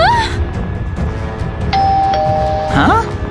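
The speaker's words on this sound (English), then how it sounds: "It's ringing the doorbell!" A two-note ding-dong doorbell rings in the Minecraft video game, standing out clearly over game background noise and excited talk.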